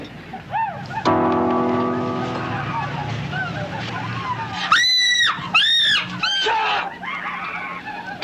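A woman's high, wavering screams ring out in several sharp bursts, loud and close, over a rumbling engine and background noise.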